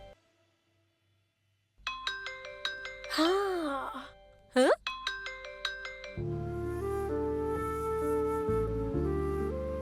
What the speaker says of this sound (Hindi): फोन आ रहा है, उठाती क्यों नहीं?